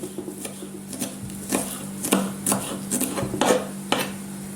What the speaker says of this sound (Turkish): Üç dal soğanım var. Şöyle ince ince doğruyorum.